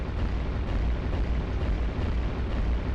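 Steady rumbling blasts from bombers exploding in the iBomber Defense video game, a dense continuous roar of booms rolling without pause, loud and low, with no voices over it.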